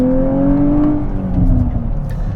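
A Nissan Z Nismo engine revs with a smooth rising and easing tone, a loud nearby drone that holds steady before fading slightly.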